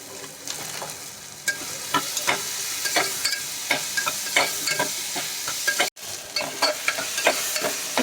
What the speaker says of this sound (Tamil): இப்போ தக்காளி வந்து நல்லா வதங்கிடுச்சு